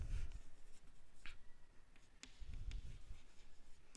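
Chalk or marker writing on a board during a physics lecture, quiet scratchy strokes in short bursts with pauses, faint against low room rumble.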